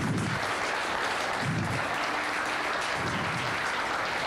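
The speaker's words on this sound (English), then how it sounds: "Let's give these exhibitors a round of applause." Steady crowd applause at a junior fair sheep show arena, a dense wash of clapping from many hands that holds at an even level throughout.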